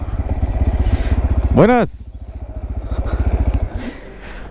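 A motorcycle engine runs steadily nearby as it rolls into a park in El Salvador, a close rumbling putter throughout, with a man calling out a brief greeting partway.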